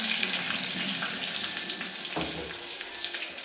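Garlic and onion hit hot oil already crackling with mustard seeds in a pan, giving a loud, steady sizzle up close with no break.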